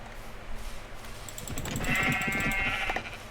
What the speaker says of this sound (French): Bonjour petit mouton.